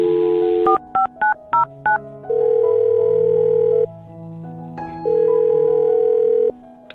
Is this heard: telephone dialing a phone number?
yes